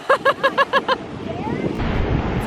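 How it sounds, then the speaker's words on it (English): Wind on a Florida beach, rushing steadily across the microphone for the last moments after a short run of rhythmic pulsing tones. "It's windy out here on the beach."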